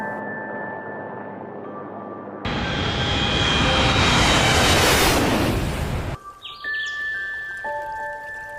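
An airplane swells from silence into a loud, broad roar as it takes off and flies away, then cuts off abruptly, with tonal background music before and after.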